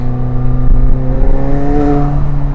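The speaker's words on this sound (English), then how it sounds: "You hear the turbo induction right behind you, especially because we have this window down in the Spider" Engine of a McLaren 720S Spider heard from inside with the window down, a loud steady tonal drone with turbo whir layered over a deep rumble, constant and close with no clear pops.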